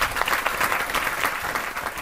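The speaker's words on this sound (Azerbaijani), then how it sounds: "alqışlayırıq." A studio audience at an evening television game show applauds, a steady, dense wash of clapping that fills the room at a moderate level throughout, with no talk over it.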